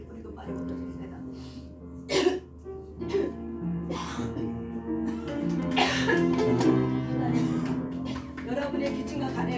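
People in a church prayer gathering cough and clear their throats over sustained music, with several loud bursts standing out among steady chanting voices.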